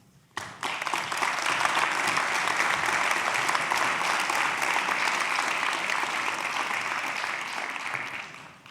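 An audience at an anniversary colloquium breaks into loud, sustained applause for volunteers and employees, starting abruptly and holding dense, even clapping for about eight seconds before tapering off.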